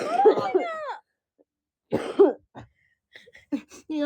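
Two harsh bursts of coughing, each a rough throaty cluster, separated by a pause, followed by a few short, quieter sounds near the microphone.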